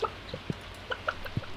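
Chickens in the farming game Stardew Valley give short, scattered clucks, several soft bursts over a quiet background with no talking.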